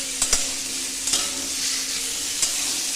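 Raw vegetables stir-fried with spices for a chicken stew, a steady close sizzle with a few sharp scrapes and clacks of the stirring spoon against the pan.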